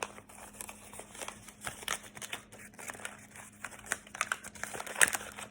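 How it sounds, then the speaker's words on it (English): Paper being folded and creased into a cootie catcher, with close, crisp crinkling and sharp rustles in irregular bursts and a faint steady background hum. "You fold it in half, and then you fold it in half again, give it your nice good creases"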